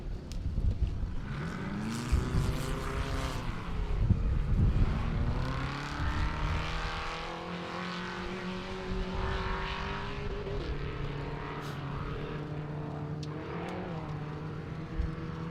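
Several off-road race cars at the start of the 4WP Every Man Challenge rev loudly and pull away one after another, engine pitch rising as they accelerate, the roar swelling then easing into a steady drone.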